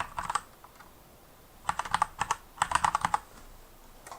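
Keys clatter on a computer keyboard as a file name is typed, a brief burst, a pause, then two quick flurries of close, crisp keystrokes.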